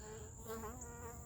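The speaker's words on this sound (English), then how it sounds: "that's a big bee" A large bee buzzes close by in a steady, droning hum that wavers slightly as it moves, faint and alone without any talking.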